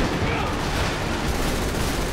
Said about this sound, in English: Now everybody's got a machine gun.